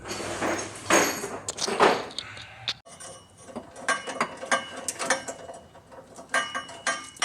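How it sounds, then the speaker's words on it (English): Ratchet tightening the last bolt on a Bisimoto Pulse Chamber exhaust during installation, a close run of rapid mechanical clicks and metallic ticks in irregular bursts, with no talk. "Tightening up the last bolt."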